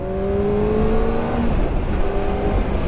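A 2024 Kawasaki Ninja ZX-4RR inline four-cylinder motorcycle engine revving high and smooth, a steady whining drone that dips briefly before climbing again, loud and close.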